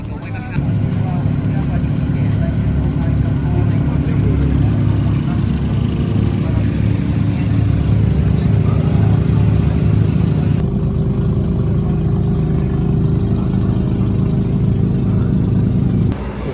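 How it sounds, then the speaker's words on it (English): Several Japanese K car race cars idle and rev while warming up their engines, a loud, dense mechanical drone with a steady buzzing hum that drops off suddenly near the end. "the K cars we were looking at earlier on, they're currently getting warmed up"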